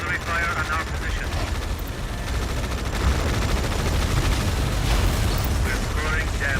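Artillery bombardment in Tom Clancy's EndWar, a constant rumble of distant shelling mixed with rapid clattering gunfire and mechanical battlefield noise, with radio voices talking throughout.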